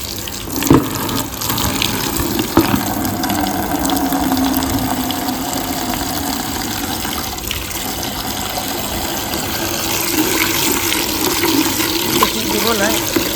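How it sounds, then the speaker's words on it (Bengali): Hot water gushes steadily from a household tap into a bucket, a continuous close splashing rush that runs for the whole stretch, with a few clanks and a voice speaking over it now and then. "একটু গরম জলটাকে ফেলে দিই, আমাদের এই কল থেকে আগে গরম জল বেরোয়"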